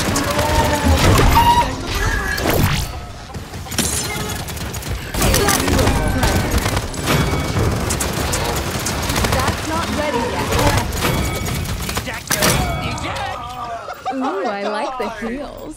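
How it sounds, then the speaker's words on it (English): Gunfire from enemies in the video game Paladins, rapid bursts of shots and crashing impacts in several volleys, mixed with talk and game effects, tapering into quieter chiming tones at the end. "Enemies are firing on me."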